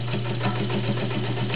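A vintage Kenmore 1204 basic zigzag sewing machine with a size 16 needle stitches straight over a thick seam. It makes a close, steady motor hum with a rapid, even needle rhythm that never hesitates.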